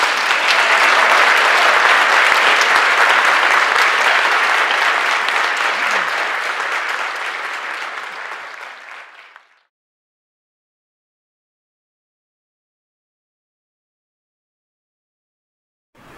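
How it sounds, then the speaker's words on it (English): Loud, dense audience applause at the Earth Keeper Wesak conference event in Scottsdale, Arizona, sustained for about nine seconds before fading out into silence. "So another round of applause, please."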